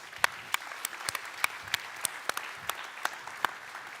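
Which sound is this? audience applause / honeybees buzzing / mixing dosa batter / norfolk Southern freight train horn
audience applause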